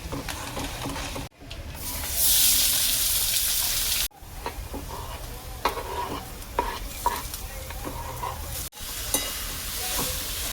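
Chana dal roasting in a hot pan: a loud steady sizzle broken by sharp cuts, with stirring scrapes and clinks close by, no voices.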